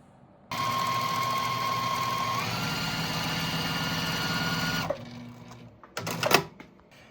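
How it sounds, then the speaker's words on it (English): A sewing machine runs in one steady, close burst for about four seconds as it stitches a quarter-inch seam on fabric for a small zippered pouch. It stops abruptly, and a short rustle of handled fabric follows. "I'm going to sew a 1/4 inch along this line"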